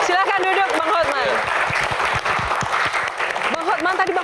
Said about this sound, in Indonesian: Oke, tepuk tangan buat Hotman Paris.